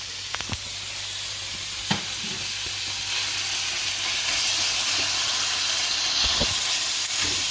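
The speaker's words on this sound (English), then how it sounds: "I'm just going to let this fry for a few minutes until the onions and everything cook a bit." Green onions, garlic, thyme and ginger frying in a pot for Trinidad-style lentil stew: a few clunks of stirring, then a steady hissing sizzle that grows louder and fills the rest, with no talking.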